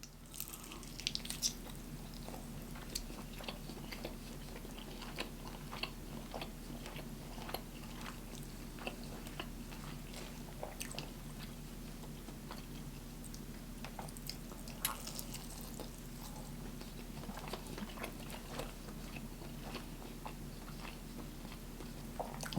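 Close, quiet chewing and biting of Church's fried chicken, with soft crunchy, moist bites and steady mastication over a low background hum and no talking.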